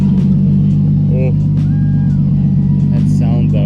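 A lightweight naturally aspirated sports car with a K-series engine runs close by in a steady, deep rumble, while people talk over it at a car meet.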